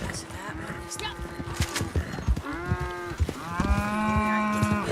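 Cattle mooing in the Red Dead Online video game, several drawn-out harmonic lows one after another, with a bull or Angus among them, loud and close with some rustling between calls.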